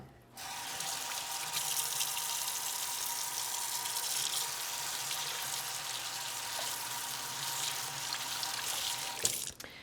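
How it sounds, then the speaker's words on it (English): Hands are washed under a running kitchen tap, a steady, even hiss of flowing water lasting nearly ten seconds before it is shut off with a small clunk. "I'm gonna wash hands here"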